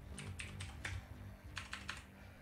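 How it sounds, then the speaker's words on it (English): Rapid bursts of mechanical keyboard typing, clicky keystrokes in quick clusters over a low steady hum, during a Battlefield 4 esports broadcast. "Let them know as you hear my mechanical keyboard go crazy."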